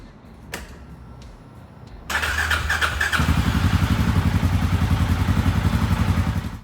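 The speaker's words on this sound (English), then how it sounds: "The first thing I'm going to do is warm up the bike to ensure a complete and rapid drain." Can-Am Outlander 700 ATV engine cranks after a few faint clicks, catches and settles into a steady, rapid idle while warming up, close and fairly loud.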